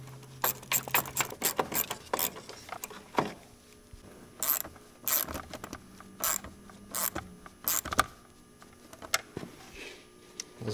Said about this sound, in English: Tighten the hose clamps.